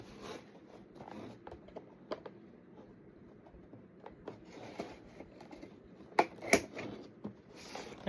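Scissors snip and scrape through packing tape on an action figure box in a series of quick, close cuts, with soft rustling of cardboard and plastic in between.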